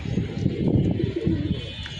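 Young pigeons cooing softly in windy outdoor air, low throaty murmurs repeating irregularly at moderate distance amid a faint rustling background.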